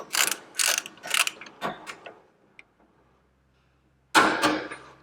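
A Milwaukee M12 Fuel 12-volt 3/8 ratchet, model 2557, loosens a bolt in several quick mechanical whirring bursts, then falls quiet before one more close burst near the end.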